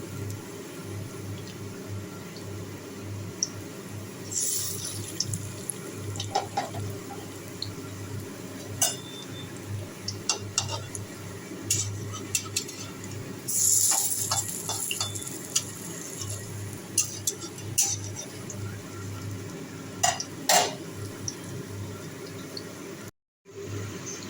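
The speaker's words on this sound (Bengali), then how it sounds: "দেখো এখন বড়াগুলো ভাজা হচ্ছে একটু কম সিম করে ভাজতে হবে" Lentil fritters (bora) frying in oil in a wok, a steady close hiss of sizzling running throughout, broken by frequent sharp clinks and scrapes of a utensil stirring against the metal pan.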